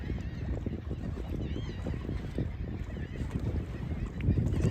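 Seabirds honk and squawk together on a small island in Charleston harbor, heard from a boat over a constant rush of wind and engine noise.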